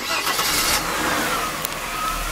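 A car engine cranks briefly, catches and settles into a steady idle, close and loud with no talking.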